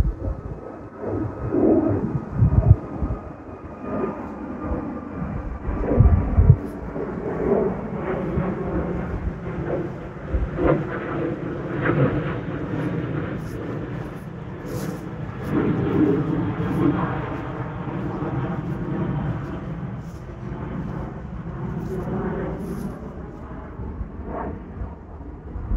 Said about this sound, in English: More planes taking off.